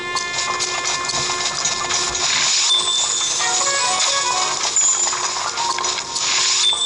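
Horse hooves clop steadily in The Legend of Zelda: Breath of the Wild, layered over a dense, bright electronic soundscape with sustained tones and music.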